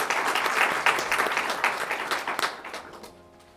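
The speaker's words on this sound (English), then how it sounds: "Another round of applause for Ms." Audience applause at a stock exchange opening bell ceremony for World Investor Week, a lively burst of many hands clapping with distinct sharp claps that gradually fades over a few seconds into a quiet room.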